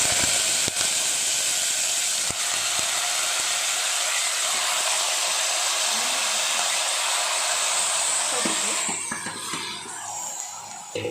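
Chicken pieces for a country chicken curry hit hot oil seasoned with fennel and cumin, a loud, steady sizzling hiss that carries on without a break, with a few sharp clicks and clatters of the pan near the start and a softening toward the end.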